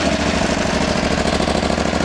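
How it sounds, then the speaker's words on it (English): A 2022 KTM 890 Adventure motorcycle engine runs with a loud, steady, rapid mechanical pulsing throughout, close to the microphone, with no talking. "Now it's time to turn the ignition on and hear what it sounds like."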